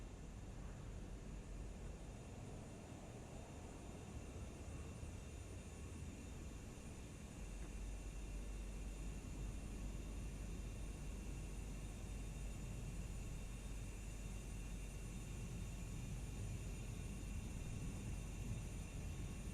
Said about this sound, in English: I'm going to put this in reverse thrust.